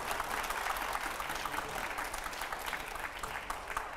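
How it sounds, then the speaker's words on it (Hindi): A television studio audience claps steadily for Manoj Tiwari, a dense and fairly quiet burst of applause lasting throughout. "एक बार पहले जोरदार तालियां मनोज जी की"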